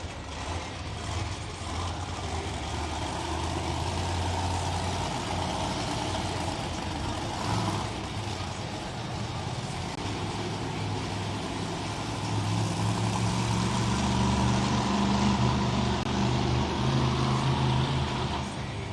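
The Michigan Ice Monster monster truck at a Monster Jam event in Orlando, its engine giving a steady low rumble heard from a distance in a large arena, swelling louder near the end.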